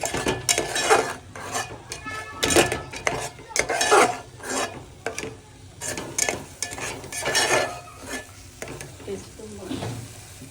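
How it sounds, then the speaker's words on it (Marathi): A paste of ground coconut, ginger, garlic and onion roasts in oil for a village-style crab dish, with repeated rhythmic spoon scrapes and clanks against the pot over a low sizzle, close and fairly loud. "हा आपला बारीक केलेला मसाला खोबरा आलं लसूण पेस्ट कांदा भाजून घेतलेलं ते पेस्ट याच्यामध्ये ॲड करून मस्त तेलामध्ये भाजून"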